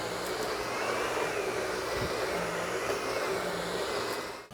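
A power roller vacuum cleaner runs with a steady, loud whirring drone, close by and unbroken throughout, with no talking.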